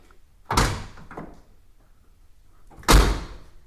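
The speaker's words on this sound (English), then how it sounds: "I can shut the door because just opening it gives it the trigger" A Datsun 280Z car door bangs twice: a solid thunk at the start, then a louder slam a couple of seconds later, close and with nothing else around.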